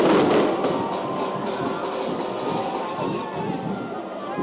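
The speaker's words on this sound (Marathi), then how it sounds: "फटाक्यांची आतषबाजी करत" Firecrackers and fireworks burst during a Ganpati immersion procession in Mumbai as a dense, continuous crackling roar of explosions, loud and close, over a murmuring crowd.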